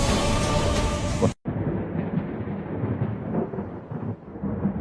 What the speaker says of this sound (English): Stunning footage captured lightning repeatedly striking skyscrapers in downtown Chicago